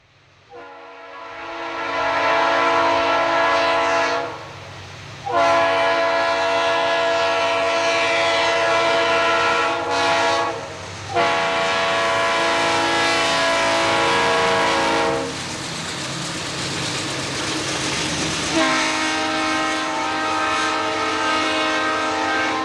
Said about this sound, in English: An eastbound mixed freight at Blandon heading to Allentown.